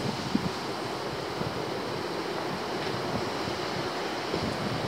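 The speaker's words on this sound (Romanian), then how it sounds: "Vântul a ridicat niște valuri de babane." Strong wind and big sea waves on the beach at Eforie Nord, Acapulco beach by the pier, in October: a continuous broad roar of surf with wind buffeting the microphone, steady and fairly loud, no voices.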